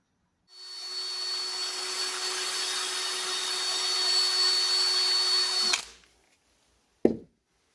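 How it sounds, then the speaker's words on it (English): A power tool whines at a steady high pitch for about five seconds while sanding the blade of a putty knife, then cuts off abruptly, followed by silence and one short knock. "We got the blade sanded up through 1200 grit."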